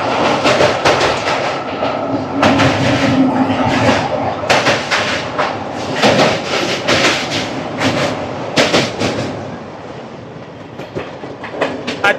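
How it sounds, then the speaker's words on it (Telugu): Ratnachal Express (12718) crossing the Sarada river bridge, heard from on board as a loud rolling rumble punctuated by rapid rhythmic wheel clacks and clattering joints, fading somewhat near the end. "శారదా రివర్ క్రాస్ చేస్తున్నాం మనం."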